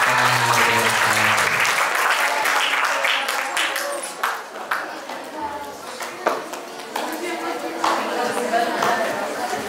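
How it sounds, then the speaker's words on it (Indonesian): Applause from a podcast event audience swells loudly in the opening seconds, then thins into scattered claps and crowd chatter as someone begins talking over it. "Sekali lagi tepuk tangan yang meriah dong"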